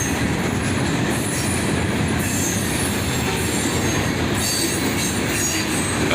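A Norfolk Southern freight train led by an SD70ACE, with a Dash 9 and an ES40DC behind it and coil cars following, rolls past in a dense, steady roar with wheel squeal and high metallic whining, loud and close throughout.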